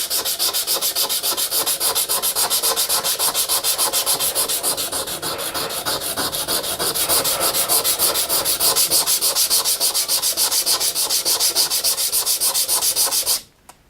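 Sandpaper scrubbing steadily against a mat, a loud continuous rasping rub with a fast back-and-forth rhythm for about thirteen seconds, stopping abruptly at the end.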